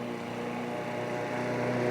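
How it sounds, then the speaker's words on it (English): A lawn mower engine drones steadily close by in a home garden, a continuous buzzing hum with no talk. "Oh, I wish Sheila would go away with that lawnmower."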